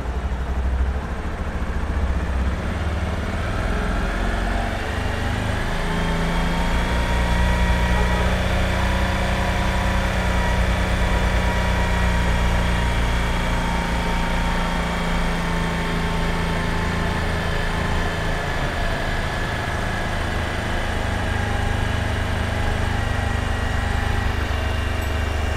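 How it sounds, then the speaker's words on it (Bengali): A motorcycle engine held steady at 3000 rpm drones continuously at close range for the whole span, with an even, unbroken tone. The bike has a fault that blackens its spark plug, raises fuel use and lowers top speed. "তো আমি বাইকের আরপিএম 3000 দাঁড় করালাম।"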